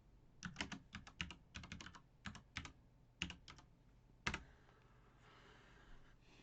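Typing on a computer keyboard to enter a search in wiring diagram software: several quick bursts of close, crisp key clicks with short pauses, then one sharper keystroke and quiet room tone, no talk.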